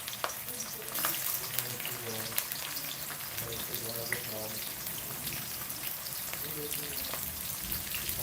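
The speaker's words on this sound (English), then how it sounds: "so I'm going to fry my one onion." Chopped onion frying in hot oil for shahi paneer butter masala, giving a steady, dense sizzle and crackle that runs without a break from start to finish.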